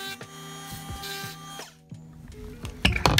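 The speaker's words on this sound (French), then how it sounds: "On a essayé d'abord à la raboteuse" A wood planer trimming a van's rear door frame makes a buzzing, vibrating machine whine that runs for over a second, stops, then returns in shorter bursts with clattering knocks near the end.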